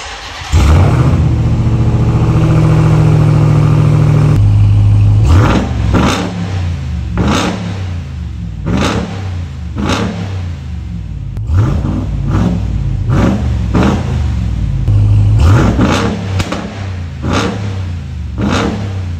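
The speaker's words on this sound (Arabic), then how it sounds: "خلينا نشغل ومسمعكم كم دوسه طربيه" A 2024 Dodge RAM TRX pickup set to sport mode fires up and its engine is revved hard repeatedly, loud close roaring blips rising and falling between idling stretches, with no talk over it.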